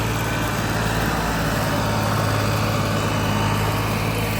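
A farm tractor engine drones continuously at close range, a constant loud rumble with no pauses or voices.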